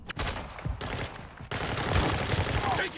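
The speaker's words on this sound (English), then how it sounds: "Taking effective fire!" Automatic weapons fire in Call of Duty DMZ, loud near bursts rattling in short volleys with brief gaps, rising into a continuous barrage while a player speaks faintly underneath.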